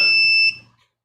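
An electronic buzzer sounds once, loud and steady, to end a timed bidding round at a knife auction, then cuts off and fades quickly into silence.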